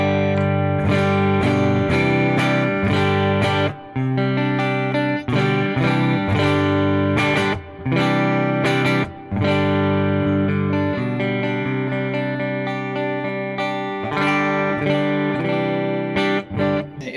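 Clean electric guitar tone through a Fender Twin Reverb amp preset on a Valeton GP-50 multi-effects unit: strummed and picked chords ring out steadily and loudly for about seventeen seconds, with brief gaps between phrases and no talking.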